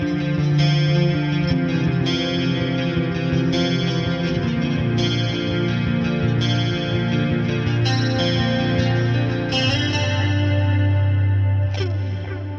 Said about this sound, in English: Scene number 2 is going to be that same sound, but with a chorus, a delay, and reverb on it.